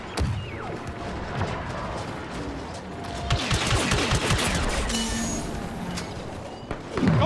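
Battle din from a courtyard fight in Star Wars Battlefront 2, with sustained blaster fusillades, scattered sharp shots and a heavier explosive burst, dense and loud with running footsteps mixed in.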